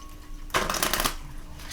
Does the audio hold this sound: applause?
no